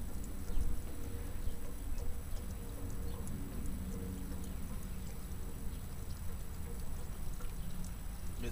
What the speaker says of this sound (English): It's not pouring out very quickly.